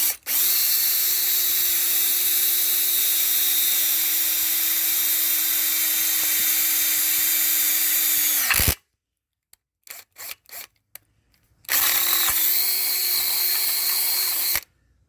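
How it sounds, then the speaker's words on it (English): A power drill bores holes through a hydrofoil mounted on an outboard motor: a loud, steady whine of about eight seconds, a pause with a few small clicks and knocks, then a second drilling burst of roughly three seconds. "Now we can take it off and drill the holes."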